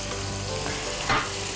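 A large chopped onion sizzles and fries in hot oil over lowered heat, a steady close crackle with a brief louder stir partway through and no speech.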